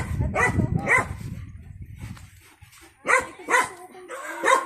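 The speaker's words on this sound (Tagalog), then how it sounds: "Uy, baka kagating kami ng aso." A dog barks several times in sharp bursts, near and loud, with a pause of rumbling noise between the barks.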